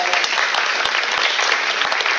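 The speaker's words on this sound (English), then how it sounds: "Let's give the candidates another round of applause." A room at a county commissioner candidate forum breaks into a steady round of applause for the candidates, dense clapping from a sizable audience with no one speaking.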